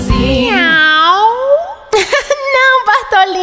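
A voice imitates a cat with a long, drawn-out meow, then a few shorter meow-like calls follow, loud and close.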